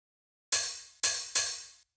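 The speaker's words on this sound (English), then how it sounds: "Like this longer open hi-hat." A longer open hi-hat sample, three bright sizzling hits that each ring for about half a second before cutting off, the second and third close together, crisp and isolated.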